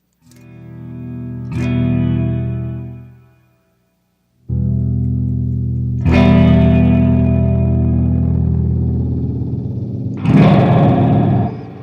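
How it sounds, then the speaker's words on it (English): An electric guitar plays loud sustained chords through a Chase Bliss effects pedal set to random settings, distorted and swirling with echo, with a brief silent gap between strums. "let's hear the pedal really quick just so we know that it's crazy"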